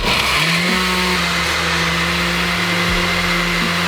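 A blender runs at its highest ice-crush setting, a loud, steady motor whine with a deep roar that holds without pause for the whole stretch, with no voices over it.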